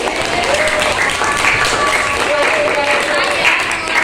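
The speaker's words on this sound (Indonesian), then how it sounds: "Beri tepuk tangan dulu." Students in a history class clap after a presentation, a short stretch of crowded applause with voices mixed in.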